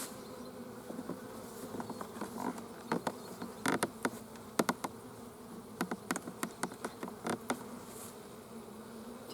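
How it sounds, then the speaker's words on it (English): Honey bees buzz and drone around a small, narrowed hive entrance, with individual insects zipping close by in repeated loud passes over a soft, constant hum. "To the point that the bees can only go through, come in, and go out."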